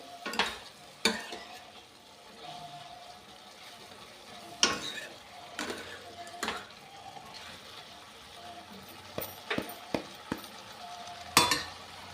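Spices being stirred into cauliflower sabzi in a pan, with scraping spoon strokes and clatter at irregular intervals over a low, steady sizzle.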